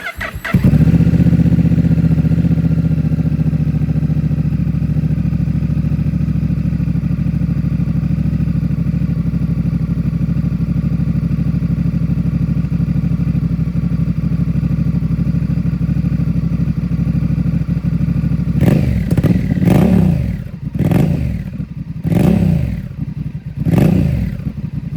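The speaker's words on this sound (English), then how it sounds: "And now, here's the gem speed exhaust." Close and loud, a 2025 Honda Rebel 1100T fitted with an aftermarket Gem Speed exhaust fires up and idles steadily for a long stretch before several quick revs rise and fall toward the end, no voices heard.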